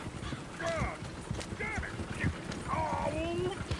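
Horse hooves clip-clop at a steady gait in the Red Dead Redemption 2 video game, with brief whinny-like calls and voices talking over the hoofbeats throughout.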